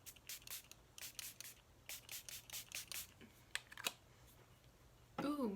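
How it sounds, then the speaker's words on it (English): A series of short hissing bursts of makeup setting spray, several quick puffs in rhythmic clusters with brief pauses, close to the microphone and fairly quiet. "And spray my setting spray."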